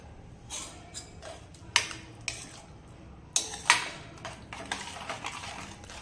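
Ladle scraping and clinking in a pan as buttermilk is stirred into crumbled spiced vagharelo rotlo, a Kathiyawadi millet flatbread dish, with scattered soft scrapes and two sharper metallic clanks.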